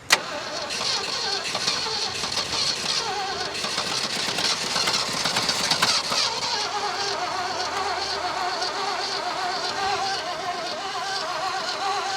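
An old Ford truck abandoned for 39 years, with its accelerator pump leaking, cranks over continuously and sputters as if nearly catching but never firing. The engine noise is loud and close, with no one speaking.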